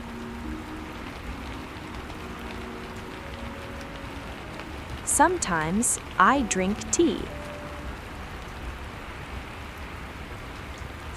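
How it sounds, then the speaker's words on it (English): Soft, steady rain patters against a window, a gentle hiss running throughout, while someone speaks calmly partway through. "I wake up and listen to the rain. I hear the soft sound on the window."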